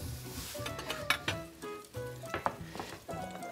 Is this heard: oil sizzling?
yes